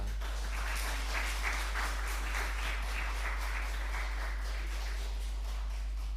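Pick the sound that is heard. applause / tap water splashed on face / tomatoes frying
applause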